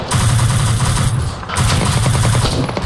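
Loud, close gunfire from Arma 3 combat, sustained bursts of automatic shots that run almost the whole time with only a brief dip in the middle.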